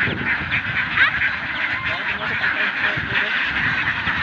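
Ducks on a free-range duck farm in the Philippines quack continuously in a dense, loud flock chorus, close by, with a person talking over the noise.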